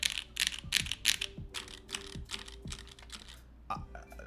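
Rapid typing bursts on a Noxary 378 mechanical keyboard, close and crisp, with clustered clacks separated by brief pauses and some lighter, sparser keystrokes toward the end.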